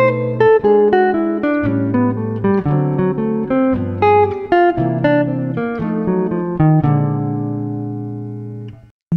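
A jazz lick cycling through dominant chords over the first four bars of rhythm changes, played as a clear, loud run of distinct melodic notes with steady rhythm, fading out near the end without talk.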